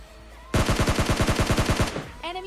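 A rapid burst of about fifteen loud gunshots rings out in PUBG Mobile Lite, evenly spaced automatic fire lasting under two seconds, followed by a brief reload-like rattle.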